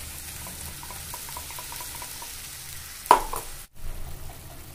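Spice paste fries in oil tempered with a dried red chili and a bay leaf. A soft, steady sizzle runs throughout, broken by a sudden louder hiss and splutter partway through.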